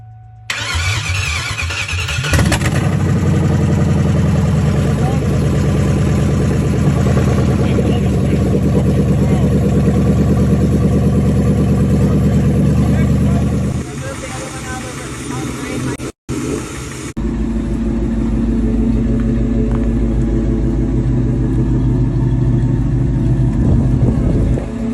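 A 2001 Ford Mustang GT with a 4.6 modular V8 cranks, fires up and settles into a loud, steady rumbling idle close by, with a brief cut partway through and people talking over the engine.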